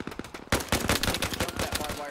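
Heavy machine gun fire in Arma Reforger arrives as a sudden dense burst of rapid, loud rounds after a short quiet start, continuing in a fast rattling stream with sharp cracks.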